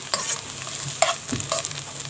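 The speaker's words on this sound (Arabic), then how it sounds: "افضل كده اهرس فيه وانا شغاله" Cooked taro being mashed and stirred in a cooking pot, a few separate wet squelching scrapes and soft knocks of a utensil against the pot, close and fairly loud with quiet gaps between strokes.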